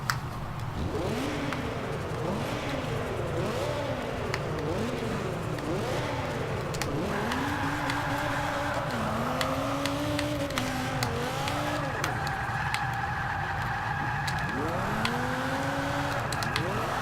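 A 2013 Dodge Viper GTS AWD lapping the Bernie's Alps track in Forza 5, its engine droning steadily with repeated rising and falling revs through gear changes, loud and continuous, with no talk.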